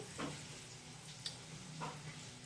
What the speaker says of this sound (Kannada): ಈ ಥರ ತಟ್ಟಿ ಎಣ್ಣೆಯಲ್ಲಿ ಹಾಕಬೇಕು. ನೀಟಾಗಿ ಗೋಲ್ಡನ್ ಫ್ರೈ ಬರೋ ಥರ ಬೇಯಿಸ್ಬಿಟ್ರೆ